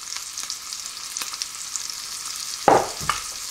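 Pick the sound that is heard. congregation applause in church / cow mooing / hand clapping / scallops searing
scallops searing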